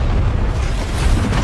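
A big explosion in a Squid Game season 2 scene comes through as a dense, loud, sustained rumbling roar with heavy low end and no break.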